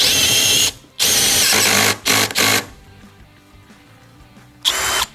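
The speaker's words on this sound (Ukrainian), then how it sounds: "Далі в нас сверло Форснера." A STARK CD 18-2 B cordless drill boring with a 32 mm Forstner bit whirs in loud bursts at first speed, several short runs separated by pauses, close up with quieter mechanical rattling in the gaps.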